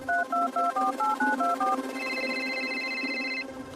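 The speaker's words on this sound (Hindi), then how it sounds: "मैंने रीना को कॉल किया।" A mobile phone call being placed outside a building: a rapid series of keypad dialing tones plays first, then a steady electronic ringback tone takes over and holds. Both are clear and close, with no talking.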